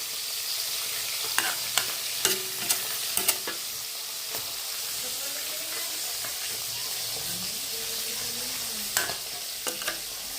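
Fish sizzles and hisses steadily frying in a hot pan, with a few sharp scraping clicks from a utensil stirring at close range.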